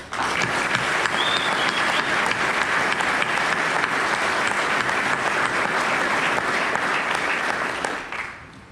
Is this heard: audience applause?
yes